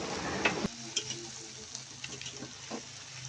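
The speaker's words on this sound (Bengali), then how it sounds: "টমেটো সস, রামিনের মশলাটা ভালো করে চিকেনের সাথে নেড়ে চেড়ে মিশিয়ে দিব" Chicken cooking with tomato sauce and ramen spice mix is stirred in a pan, with scraping strokes and clinks over a soft, steady sizzle, close by and without speech.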